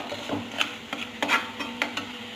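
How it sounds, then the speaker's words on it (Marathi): Gravy with Kolhapuri chili powder and garam masala frying in oil for a cauliflower curry, a low sizzle under repeated scrapes and clinks of a spoon stirring the pan, close with no voices. "अर्धा चमचा गरम मसाला टाकून ग्रेव्ही चांगली तेल सुटेपर्यंत भाजून घ्या"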